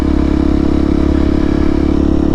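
A Honda CRF300L with a loud aftermarket exhaust, baffle fitted, rides through a park. The single-cylinder engine gives a continuous deep, loud thrum with a slight clatter, heard close and alone without talking.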